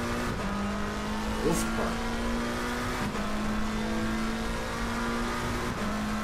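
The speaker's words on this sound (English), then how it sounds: "Listen to those downshifts." Race car engine in the Assetto Corsa Competizione sim racing game during a Nürburgring Nordschleife endurance race, droning steadily with rapid downshift blips and revs, under brief casual talk.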